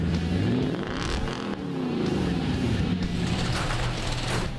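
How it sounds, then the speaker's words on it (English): A truck fitted with a Dirty Deeds Industries aftermarket exhaust revs hard while stationary, a loud, deep, raspy roar that swells and dips with repeated throttle pulls, close up and without speech. "let's take a listen to see what Dirty Deeds Industries can do for the sound of this truck"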